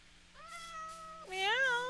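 A house cat meows twice up close, the first a long steady call and the second a louder, rising and falling meow, heard alone over a low background hum.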